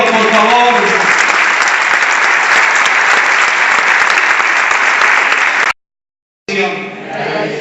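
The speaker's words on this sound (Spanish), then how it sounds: "Den un aplauso a Dios, por favor." A church congregation applauds during a Spanish-language worship service, a loud, dense, sustained clapping that runs for over five seconds before cutting off abruptly; after a short silence someone speaks.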